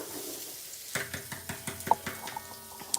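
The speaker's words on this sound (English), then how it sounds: "I'm about to go ahead and add the onions" Onions go into a pot for egusi (melon seed) soup, bringing soft sizzling and a series of light scraping, tapping stirring strokes, fairly quiet and close, with no talking.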